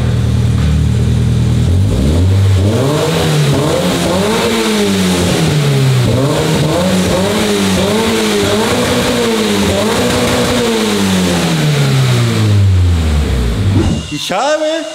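A Toyota GR86 with an aftermarket exhaust and longer mufflers revs repeatedly, rising and falling in pitch with a throaty, crisp exhaust note, loud and close, ending with an abrupt cutoff.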